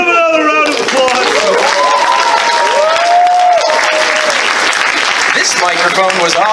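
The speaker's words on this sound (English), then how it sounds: "give them another round of applause" Loud applause from a live audience, dense clapping sustained across the whole stretch with some cheering mixed in.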